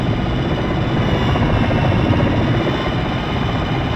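Black Hawk military helicopters fly in a combat video game, their engine and rotor noise forming a loud, dense, continuous roar with no talking.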